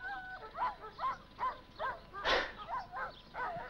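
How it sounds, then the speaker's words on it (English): Several dogs bark in a steady repeated series, moderately close, with rhythmic yaps about every half second and one louder burst partway through. "I can hear the dogs, see?"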